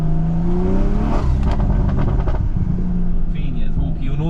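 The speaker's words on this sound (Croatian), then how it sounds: "Znači fini popsi, decentni, sve se dešava kulturno, nema rezoniranja, to vam je Miltek i to je BMW" A BMW M340i Touring with a Milltek exhaust revs loudly and close, with a deep droning engine note and a burst of crackling pops partway through. Someone talks over it.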